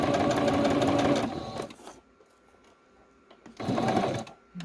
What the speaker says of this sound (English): I'm just going to sew around just to make it a little bit of a frame on the outside